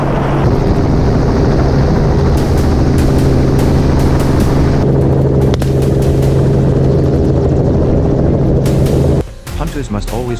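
A helicopter carrying hunters over Ethiopia's rugged highlands roars continuously with a loud, steady rotor and engine drone, close and unbroken for most of the stretch before briefly dropping and shifting near the end.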